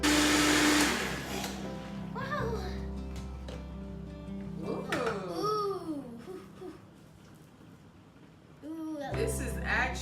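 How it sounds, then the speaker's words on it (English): Blender whirring through quinoa baby food puree, a loud motor burst at the start, then softer churning with rising and falling pitch while someone talks and a baby babbles, ending with another motor burst. "you blend it as how you would like"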